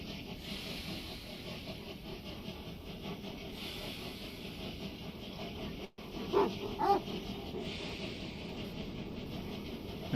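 A dog in the Farm Together video game barks faintly and repeatedly over a steady hissing background, with a couple of brief, slightly louder yips near the end.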